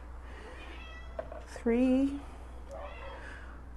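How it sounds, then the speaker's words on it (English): A cat lets out one clear, loud meow near the middle, close by in a kitchen where chicken tamales with tomatillos and cilantro are being prepared, with a person speaking briefly and steady low hum beneath. "The cat smelled the chicken."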